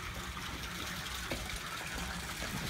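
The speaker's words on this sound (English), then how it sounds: "Nice water feature" Water feature at the Honey Mesquite home flowing steadily, a continuous close wash of splashing water with no talk over it.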